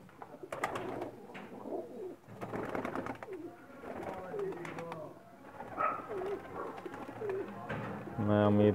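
Pakistani flying pigeons, hens bred for competition flights, coo steadily in a loft, their soft rolling calls repeating close by, with a louder, fuller burst of cooing near the end.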